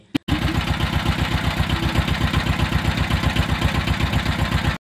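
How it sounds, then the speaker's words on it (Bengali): A boat's engine starts with a brief knock, then settles into a steady, loud, rhythmic chugging as the boat pulls away across a lake, close by and continuous with no talk over it. "আমাদের বোটটা চলা শুরু করে দিয়েছে।"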